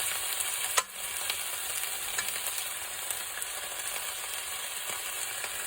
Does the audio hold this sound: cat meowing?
no